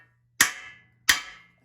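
A Harley-Davidson WLA WW2 motorcycle frame part bottoms out with two crisp, ringing metallic tangs about a second apart, close and clean against near silence.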